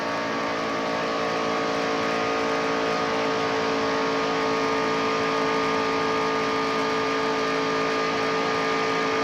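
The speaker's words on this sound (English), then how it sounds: "Listen to the motor in this thing." Wide-open NASCAR stock car engine at the 1993 Daytona 500, a loud, steady high-revving roar holding constant for the whole stretch with strong harmonic whine and no talk over it.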